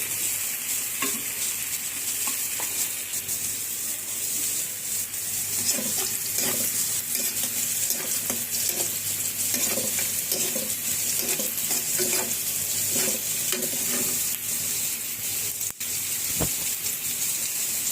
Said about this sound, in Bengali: মা শুটকি মাছের তরকারি একটু নাড়া দিই ভালো করে কষিয়ে নিই